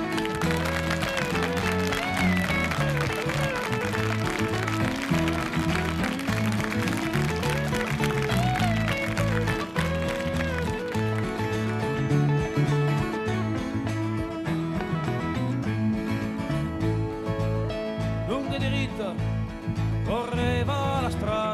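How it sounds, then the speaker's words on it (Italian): Live concert audience clapping along as a song begins, steady rhythmic applause blended with guitar and other instruments, loud and continuous with a crowd feel throughout. "appena io scatto con le note voi applaudite"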